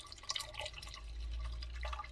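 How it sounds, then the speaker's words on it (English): Strained tamale sauce poured back into a pan, producing a few soft drips and liquid splashes over a low hum, quiet and close with no talking. "So what I'm going to do is pour it back into the pan."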